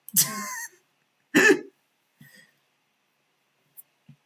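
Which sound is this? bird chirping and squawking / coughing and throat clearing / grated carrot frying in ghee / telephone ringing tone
coughing and throat clearing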